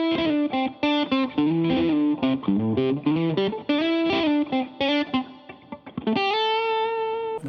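Electric guitar played with a raking technique through effects with light distortion and chorus: quick bursts of muted, percussive notes leading into sustained single notes, then a long ringing note at the end.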